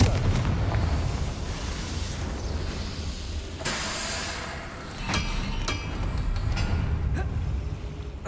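Confringo fire spell explosions in the Hogwarts Legacy video game: several sharp booming blasts burst out one after another over a low rumbling game backdrop.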